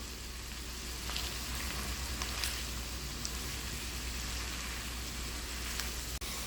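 Egg and snake gourd frying in a pan while being stirred, a steady close sizzle with faint scraping clicks throughout and no talk.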